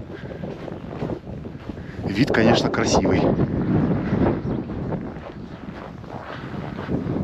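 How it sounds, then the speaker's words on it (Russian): Strong winter wind beside five-storey apartment blocks in Divnogorsk, Siberia, on the Yenisei, buffets the microphone with a steady low roar throughout, while a person speaks briefly over it. "пятиэтажки и ветер. Очень сильный ветер."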